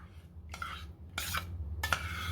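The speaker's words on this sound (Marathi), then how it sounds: "दुधामध्ये मी दही मिक्स करते" Curd is stirred into warm milk, producing three short bursts of spoon scraping and swirling against the pot with quiet pauses between them, close by and faint.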